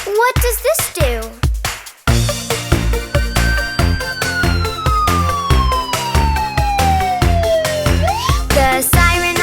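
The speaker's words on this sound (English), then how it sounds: "The siren on the ambulance goes wee-oo-wee" A loud ambulance siren rises and falls over a bouncy children's vehicle rhyme, the wail sweeping down then up again against steady music.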